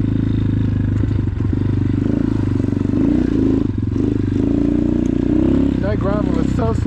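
Engine drone of an X-PRO Titan 250cc dirt bike riding over gravel, a steady loud motor hum with clattering and scraping from the loose surface, while a rider talks over it.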